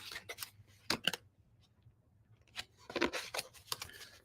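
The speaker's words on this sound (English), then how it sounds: "Shuffle, shuffle, shuffle." Tarot cards are shuffled during a live reading, heard as faint, scratchy bursts of card handling in two clusters with a quiet gap between them.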